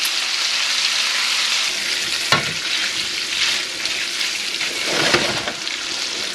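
Bacon sizzles and renders in a pan for smothered cabbage, a steady loud frying hiss with a couple of brief stirring clatters.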